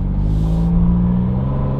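A Kia Telluride V6 SUV fitted with a Borla exhaust rumbles loudly and close with a steady low drone and slight rising rev, no voices over it.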